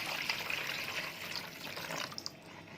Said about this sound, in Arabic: واجيب كده شويه ميه كده من الحنفيه